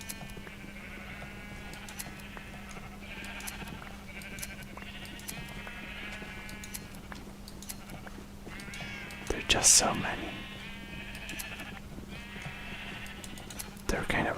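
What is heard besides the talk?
sheep bleating while being sheared in a video game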